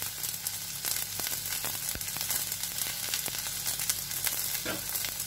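Garlic cloves and chopped ginger sautéing in a pan, a steady close sizzle and crackle with occasional sharp pops and stirring clicks, no voices.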